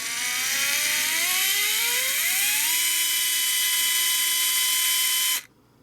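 A Fanttik NEX L1 PRO electric screwdriver spins up with a steady whir that climbs in pitch over a few seconds, holds a high whine, then stops abruptly; loud, close and alone.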